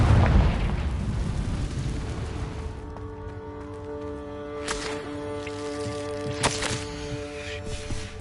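A fiery spell blast from the Confringo curse in a Hogwarts video game erupts in a loud booming burst, then rumbles and fades into low tonal game ambience with a couple of softer pops.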